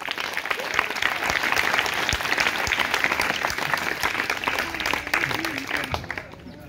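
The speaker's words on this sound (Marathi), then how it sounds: "सुरतसाठी टाळ्या रे" A classroom audience claps for a quiz contestant, a loud, dense burst of applause with some sharper individual claps that tapers off near the end, with voices mixed in.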